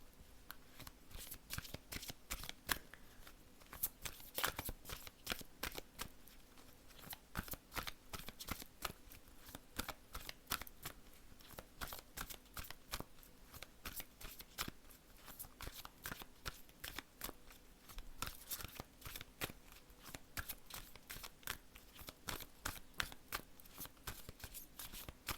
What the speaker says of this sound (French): Les cartes ne veulent pas tomber, alors je vais couper et je vais prendre les cartes.